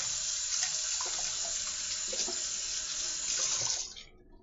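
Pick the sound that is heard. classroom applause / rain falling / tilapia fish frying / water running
water running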